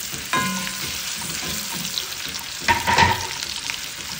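Chopped onion and garlic hit hot pork fat rendered from chicharrones, frying as rice is prepared: a steady, loud sizzle throughout, with a burst of stirring and crackle near the end.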